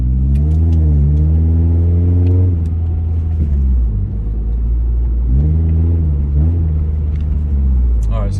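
A Scion car accelerates with an aftermarket throttle response controller on its sport setting 0, the engine revving up in two rising sweeps with a steady loud rumble, broken by a shift in between.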